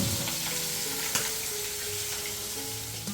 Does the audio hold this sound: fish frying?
yes